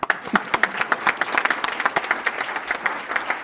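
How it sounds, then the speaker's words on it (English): Audience applause at a 2017 Coast Capital Savings annual general meeting, a steady burst of many hands clapping close and fairly loud, sustained for a few seconds without talk. "Applause one more time."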